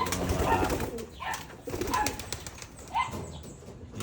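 Pigeons in free flight, wings flapping in several short bursts over a soft outdoor background, moderately close.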